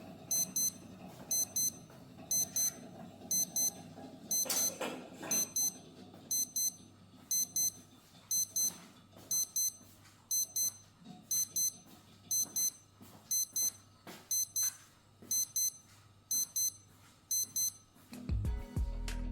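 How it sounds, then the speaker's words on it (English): A Casio W-217H digital watch, module 3454, sounds its alarm in a steady repeating pattern of quick high beep bursts, clear but fairly quiet against a low background hum. "The alarm on this module 3454 is loud and clear"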